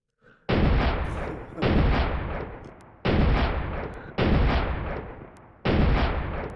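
A shell-spitting gun in a video game fires five heavy, booming shots about a second apart, each loud blast trailing off into a rumbling decay before the next.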